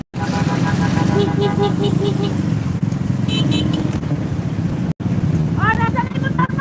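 Vehicles in a motorcade honk repeatedly over the steady roar of motorcycle engines, loud and close, with a long blare early and more horn toots near the end; voices talk in the background.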